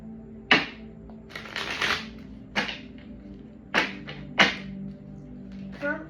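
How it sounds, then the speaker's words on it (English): Tarot cards are shuffled in several quick riffling bursts, close and crisp, with short pauses between each pass. "So we gotta shuffle these cards."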